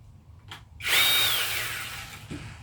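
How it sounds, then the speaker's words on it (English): A small Bauer 20V cordless 5-inch pruning chainsaw gives a brief tap, then spins up into a whining electric motor buzz lasting about a second and a half before tapering off, close and fairly quiet. "This is the Bauer 20V cordless 5-inch pruning saw."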